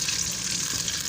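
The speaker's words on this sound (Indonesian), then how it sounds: "langsung kita menggoreng ikan seperti ini." Fish frying in homemade palm oil, a loud, steady hiss and crackle of hot oil that continues unbroken throughout, up close and alone with no voices.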